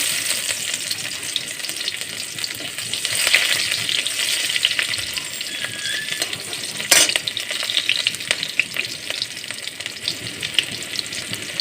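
Chopped onion and two bay leaves fry in hot oil for a banana-stem and dal dish. A loud, continuous close-up sizzle hisses throughout, with light stirring and one sharp click partway through, and no one speaking.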